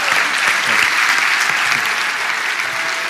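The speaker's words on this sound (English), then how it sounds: "Everybody please give Jack and Aisha a big round of applause" Audience applause at a live event, loud and dense throughout, a steady wash of clapping with no voices over it.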